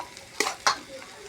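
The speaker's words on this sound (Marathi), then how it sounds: "आता चवीपुरतं मीठ टाकू आणि एक मिक्स करून घेऊ आपण मस्त भाजी।" Samosa vegetable filling with salt and spices being stirred in a pan, giving two short scraping, sizzling bursts over a faint background.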